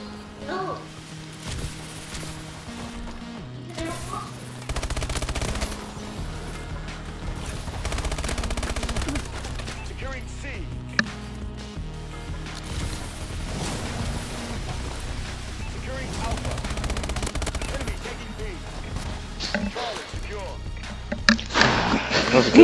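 Dual akimbo guns fire in rapid bursts during an online Call of Duty Advanced Warfare match, dense repeated gunfire under a steady game soundtrack and effects, with a louder flurry of shots near the end.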